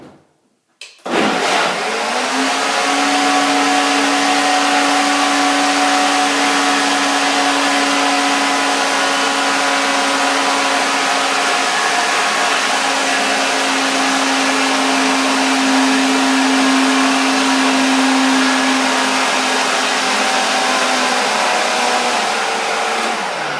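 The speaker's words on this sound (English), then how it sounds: "One more blending." A blender whirs loudly and continuously for over twenty seconds after switching on, its steady whine holding nearly constant.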